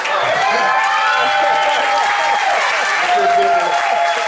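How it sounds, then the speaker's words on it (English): An audience applauds Tyrone Gardner, a deputy chief and community college board member, with loud, steady clapping mixed with crowd noise and some cheering, filling the whole stretch. "Give him another round of applause"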